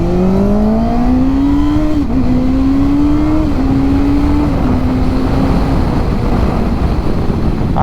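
Motorcycle with an aftermarket eBay exhaust, heard up close and loud as it accelerates, its engine note climbing and then stepping through gear shifts, with heavy wind noise and no speech.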